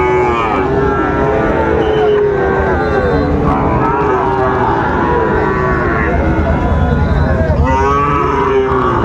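A Sahiwal bull calf at a busy cattle market in Raniganj lets out several long, loud moos close by, over constant crowd chatter and haggling voices.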